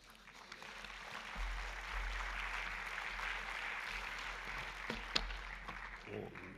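A conference audience breaks into applause: a broad, steady wash of clapping swells in after a quiet start, holds for several seconds and then thins out.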